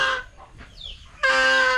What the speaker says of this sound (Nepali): हेर्नु होला हाम्रो ठुलो भाले छ।